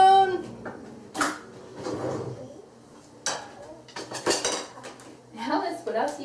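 Kitchen utensils such as tongs, a wooden spoon and spatulas clatter and clink as they are handled, with repeated metallic knocks and scrapes close by and voices talking in between.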